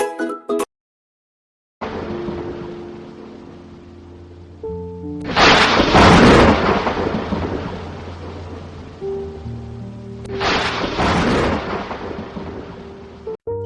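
Cartoon thunderstorm with two loud rolling thunder crashes, one near the middle and one near the end, over a steady bed of rain and low rumble. Sustained musical tones run underneath, and there is no talk.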